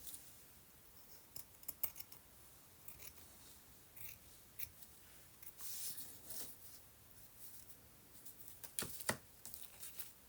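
Scattered snips and soft crisp cuts of scissors through thin silk, close by, irregular and fairly quiet against a faint background hiss.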